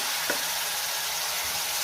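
Powdered spice masala sizzles steadily in hot oil as a little water is added, a continuous close frying hiss with a brief crackle near the start.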